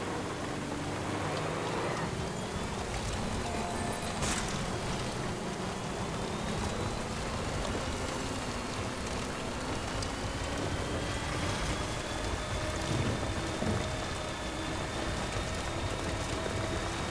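Continuous rain in the video game Death Stranding hisses throughout, with a low rumble like a vehicle engine underneath, steady and moderately quiet.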